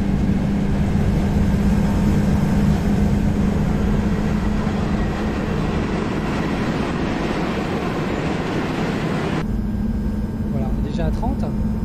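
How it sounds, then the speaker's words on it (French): BB7200 electric locomotives running in multiple unit in a train simulator game give a steady, loud rumbling roar with a constant low hum. It holds throughout and the top end drops away near the end. "Et vous entendez un moteur rugir"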